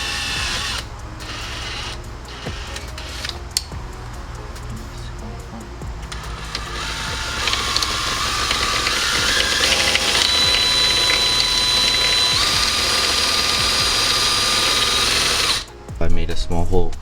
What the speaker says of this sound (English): I just drilled that hole right there.